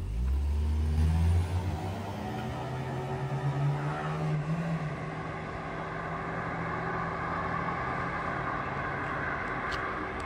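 Cars launching at the start of a drag race between a Toyota Camry, Toyota Corolla and Hyundai Getz, engines revving and rising in pitch before fading into a sustained distant rumble over outdoor noise.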